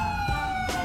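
Ambulance siren wailing in a GTA V police patrol scene, a sustained steady tone at moderate volume with brief bursts of other noise around it, no voices.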